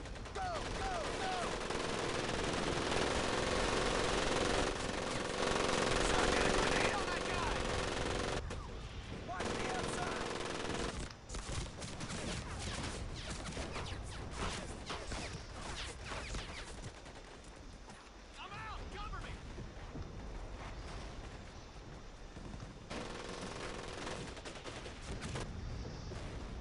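Gunfire from the video game Medal of Honor Pacific Assault, with dense, continuous machine-gun bursts and rifle shots that fill the whole stretch, loud and close, with shouted voices mixed into the battle.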